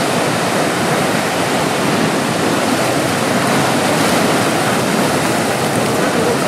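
Powerful rushing water of the River Nile at Itanda Falls in Uganda, a steady, dense roar of rapids filling the whole clip at close range with no break or talk.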